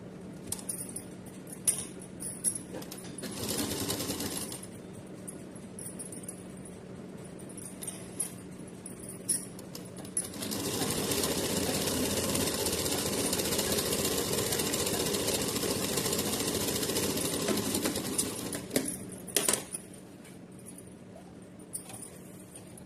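Sewing machine stitching folded fabric for a small Laddu Gopal outfit: a short burst of whirring stitching, a pause with faint handling clicks, then a longer steady run of rapid mechanical stitching before it stops.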